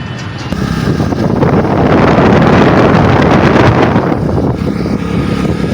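A motorbike ride through Gorakhpur traffic, with loud wind buffeting the microphone over a rumbling engine. The roar is continuous and close, and no one speaks.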